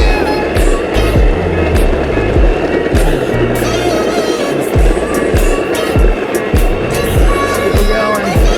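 Boosted Mini X electric skateboard climbing a hill at full throttle, with a steady motor whine and wheel rumble, road knocks at regular intervals and a rider talking over it.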